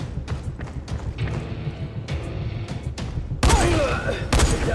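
Gunfire in the video game Dying Light comes as scattered sharp cracks, then a denser and louder burst of shots toward the end, with thuds and ambient noise under it.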